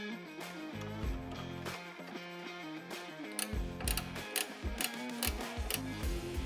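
A light bar mounting clamp is tightened onto a Ram truck, with quick ratcheting clicks and mechanical ticking in short bursts, fairly close but quiet.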